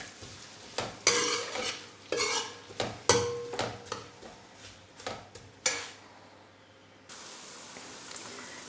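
Onions softening in a pan for a Punjabi turnip and spinach dish, stirred with a utensil: a series of close scraping strokes over a low sizzle, then the stirring stops and a quiet, steady hiss of frying carries on alone.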